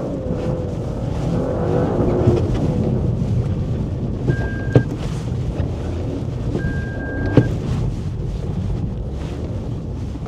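A Toyota GR Yaris drives a busy snowy course at Naeba Prince, its engine droning steadily under heavy wind buffeting on the microphone, with a couple of sharp brief clicks along the way.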